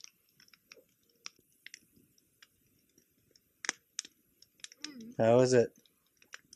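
Fire-roasted Jolly Rancher hard candy being chewed close up, a series of crisp irregular crunches and clicks, with a short burst of speech near the end.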